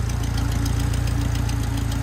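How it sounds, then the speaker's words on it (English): A tractor engine chugs steadily while backing up, a loud, close, rhythmic knocking idle that holds even throughout without any voices. "backing up with her tractor"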